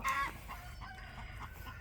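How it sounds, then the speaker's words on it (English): A rooster on a garden homestead gives a loud, close squawk at the start, then a run of soft, regular clucks in the background. "So we have a rooster that when things get spooked around here, he decides he wants to attack"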